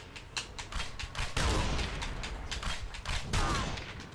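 Gunfire in the Hellboy The Science of Evil video game, a rapid string of muffled shots and impacts over a constant mechanical din of combat, with no talk.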